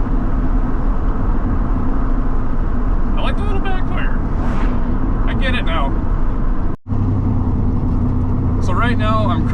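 A Chevy S10 truck with a cheap side-exit exhaust drones in a steady low rumble from inside the cab, while people talk over it and a brief dropout breaks the sound partway through.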